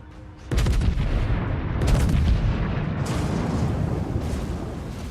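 Incoming naval shellfire in World of Warships around the battleship Friedrich der Große, heavy booms hitting in succession with a rumbling, roaring tail that stays loud and dense throughout.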